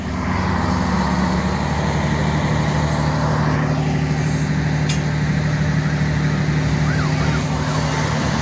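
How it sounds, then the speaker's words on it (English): A siren from a speeding train involved in a collision wails steadily and loudly throughout, layered over continuous heavy rumble and engine noise with no talking. "The accident involved a speeding train emitting a faint siren"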